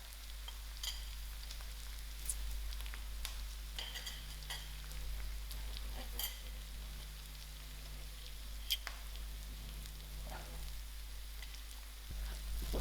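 Sour dhal being stirred in a pot with mustard seeds and masalas, giving a soft, steady scraping and bubbling sizzle over a constant low hum, with faint clinks scattered through.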